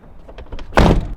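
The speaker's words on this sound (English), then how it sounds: "Let's see if the door sounds any different when I shut it." Car door fitted with Dynamat sound deadening being shut: a few light clicks of the handle, then one close, solid thunk that dies away quickly.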